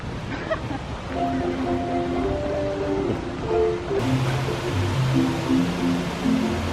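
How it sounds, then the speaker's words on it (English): A waterfall splashes at the base of the Tree of Life at Disney World, a constant rushing hiss under people talking nearby and a melodic background tone. "They have this cool waterfall set up."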